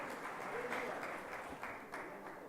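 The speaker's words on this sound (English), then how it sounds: "Let's give him a round of applause," An audience at a blockchain hackathon presentation event applauds a speaker, a dense steady wash of clapping from a seated crowd with a few louder claps standing out, lasting a couple of seconds.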